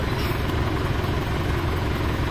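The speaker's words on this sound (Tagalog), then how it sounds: "Diesel natin ito, pan-diesel." A diesel engine idles close by, a steady low rumbling drone with constant vibration and no change in pitch or loudness throughout the short stretch.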